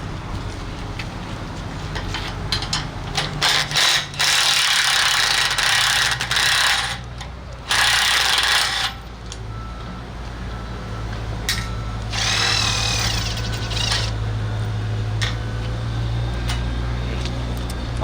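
A 1/2 inch wrench and socket loosen hardware on the second stage of a telescoping mast, producing rapid ratcheting clicks in bursts separated by brief pauses, close and fairly loud over a steady low hum.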